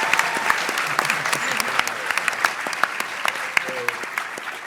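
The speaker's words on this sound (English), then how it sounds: "Can we get a round of applause for the panelists now?" Steady applause from a convention panel audience at San Diego Comic-Con, many hands clapping with sharp individual claps standing out over a continuous wash.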